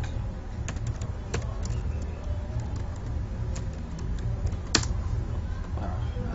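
Someone types on a computer keyboard while working in CorelDRAW, producing quiet, irregular key clicks with one sharper tap, over a steady background hum.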